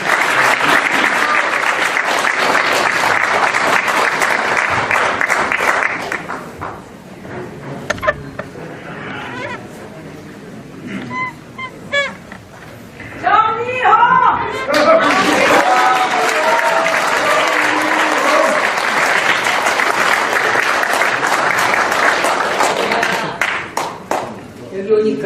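A lecture audience claps loudly and at length, the applause fading during a brief lull with cheers and voices, then swelling again into sustained, dense clapping.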